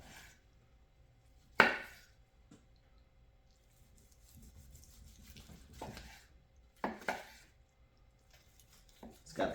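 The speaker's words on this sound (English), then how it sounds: "Let's go ahead and slice her." A knife slices through smoked picanha on a board, giving a few separate sharp cuts and scrapes spaced several seconds apart. A quiet background sits between them and no one speaks.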